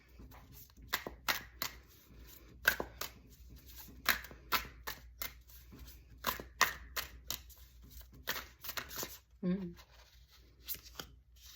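Tarot cards are shuffled and pulled from the deck in quick bursts of crisp riffling and flicking, close and fairly quiet, with brief pauses between handfuls.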